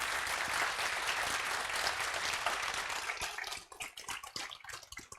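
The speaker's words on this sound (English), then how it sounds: "A big round of applause." An audience applauds after a conference talk on ethics and privacy, a steady wash of many hands clapping that thins into scattered individual claps toward the end.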